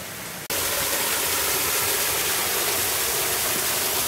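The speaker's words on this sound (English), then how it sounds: "This is waterfall number one, and we've got a few more to find." Waterfall in Hoosier National Forest, a loud, steady rushing roar of falling water that bursts in after a brief quieter moment and continues unbroken.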